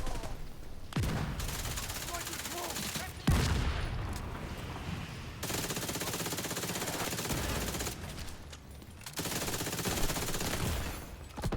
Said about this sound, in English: These mortars are being a bit ridiculous.